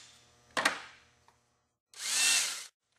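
A short burst from a power drill, a pause, then a steadier whirring run of the drill driving a screw into an EcoStud around a window or door, with a tiny click after.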